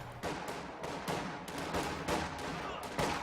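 Infantry firefight in Company of Heroes 2, grenadiers trading fire with riflemen behind heavy cover; repeated rifle and machine-gun bursts at mid distance, steady and fairly loud.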